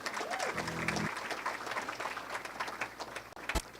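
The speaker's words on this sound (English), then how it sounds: "Round of applause." Applause fills a hall at the 2024-25 Condors Esports Awards, a steady wash of clapping from the audience that carries on throughout, with a short held musical tone sounding near the start.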